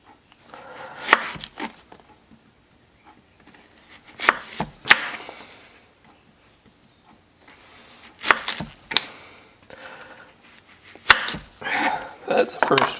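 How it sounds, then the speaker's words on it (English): A knife cuts through fresh-picked, crisp Detroit Red beets in irregular bursts of sharp, crunchy chopping strokes, close and moderately loud, separated by short pauses, with no speech. "beets are tough to cut when they're like this. Fresh picked and crispy."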